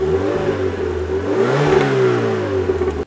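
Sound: car engine revving before exhaust attachment

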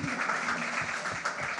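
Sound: audience applause at school opening event

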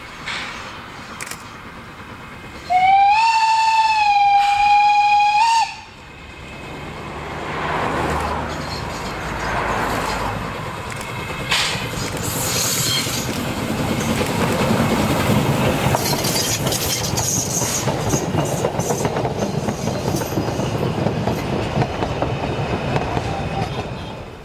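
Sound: steam locomotive whistle and running train

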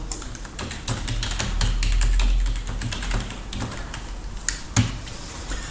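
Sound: typing an email address on computer keyboard

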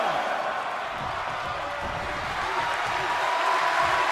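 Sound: crowd cheering in WWE 2K22 video game

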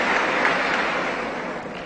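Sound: audience applause

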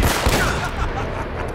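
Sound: gunfire in the video game Uncharted

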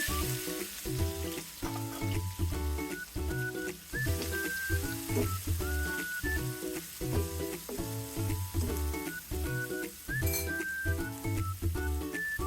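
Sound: onions frying in oil

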